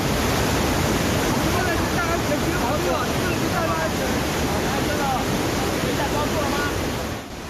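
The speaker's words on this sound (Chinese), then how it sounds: "愈来愈大的溪水一直冲伊身躯" A swollen mountain stream rushes and roars after a flash flood on Jiali Mountain, a loud, steady broadband wash of turbulent water close by that fills the whole clip without a break.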